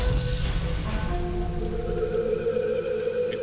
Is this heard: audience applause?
no